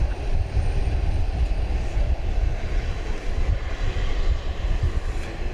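An airliner arrived from Hong Kong taxis at DFW toward Terminal D, a low rumbling engine drone with uneven, fluttering loudness heard from a moderate distance, without speech.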